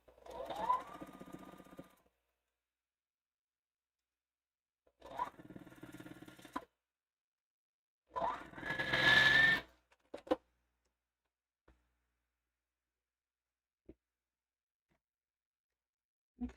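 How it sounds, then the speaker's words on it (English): A sewing machine runs in three short stitching bursts, humming close and steady while piecing seams on a Farmer's Stars wall quilt, separated by quiet gaps and a few faint clicks. "Nest a seam, sew to it, nest the next one, sew to it, so on and so forth"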